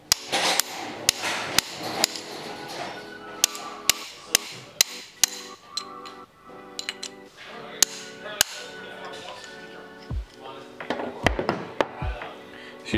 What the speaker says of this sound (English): Just going to put the punch on the inside of the piston and just knock it through.